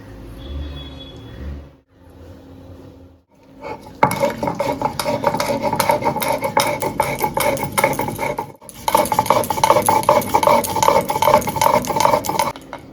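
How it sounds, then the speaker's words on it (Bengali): Poppy seeds being ground on a shil-nora grinding stone, with stone rasping and clattering in steady back-and-forth strokes, close and fairly loud after a quieter start with a short pause midway. "আমরা প্রথমে পোস্তটাকে বেটে নিচ্ছি।"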